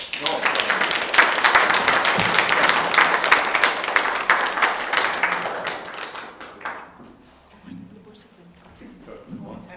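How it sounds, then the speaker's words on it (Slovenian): A church congregation in Prevalje applauds the guest speaker, a dense, loud wash of clapping that fades out near the end as a voice starts talking. "Dajmo mu en aplavz"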